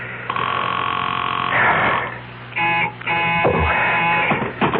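A telephone rings in an old radio mystery drama, a steady electronic tone with harmonic bands that repeats in bursts, loud and close, broken by short gaps and rustling.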